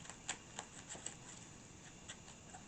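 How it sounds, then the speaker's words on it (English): A deck of Marvel Champions encounter cards is shuffled at a tabletop game, giving soft riffling clicks and a few sharper snaps, faint and close. "And shuffle the encounter deck."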